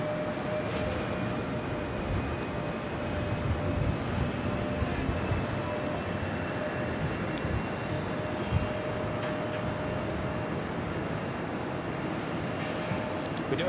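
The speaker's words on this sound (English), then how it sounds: "Delta Connection Endeavor Flight 5405 at CRJ 900 LR." A Delta Connection Endeavor CRJ-900LR regional jet at New York JFK airport makes a steady, distant engine roar with a faint whining tone, continuous and even throughout, with no voices.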